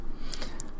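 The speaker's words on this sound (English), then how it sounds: "Send text message sounds like this." A send text message sound effect, a very short bright swoosh with a quick high chime or pop near its end.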